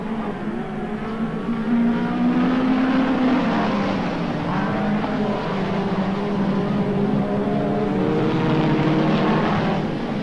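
Midget speedway cars racing at the 1989 NSW Midget Championship, engines droning loudly and continuously with a rising and falling pitch as the cars run around the track, heard alone.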